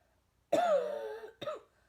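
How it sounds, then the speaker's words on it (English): A single harsh, close cough followed by a shorter second cough, loud against near silence. "Sheesh, that cough was crazy."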